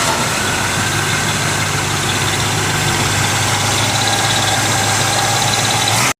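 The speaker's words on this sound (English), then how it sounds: "the 396 cubic inch L89 V8 engine, delivering roughly 375 horsepower and a sound that made the earth shake" A Camaro SS 396 with the L89 V8, 375 horsepower, idles steadily with a loud, deep, even rumble that holds constant throughout before cutting off abruptly at the end.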